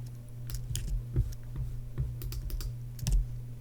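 Fingers type on a computer keyboard in short irregular bursts of clicky keystrokes, close and moderately loud over a low steady hum.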